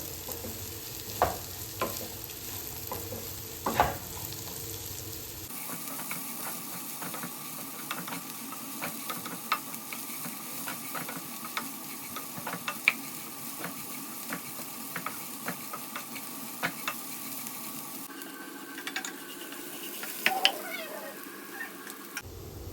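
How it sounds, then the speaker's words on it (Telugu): Ridged bitter gourd pieces frying with turmeric in a pan, a soft continuous sizzle broken by scattered spatula taps and scrapes, with the frying noise shifting partway through. "ఇలా పసుపు వేసుకొని ముక్కలు వేసుకొని మంచిగా వేయించుకోవాలి."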